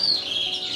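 Canaries in an indoor bird room let out a quick high chirp, short and close.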